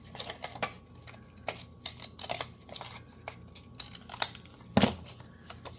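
Scissors snip through a strip of paper in a quiet room, a series of short crisp cuts at an uneven pace, one louder snip near the end.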